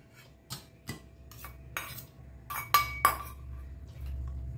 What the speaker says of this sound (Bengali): তো এইটাকে আমি মিক্সিতে দিয়ে দিচ্ছি। মিক্সির ছোট জারে এটা আমি দিয়ে দিলাম।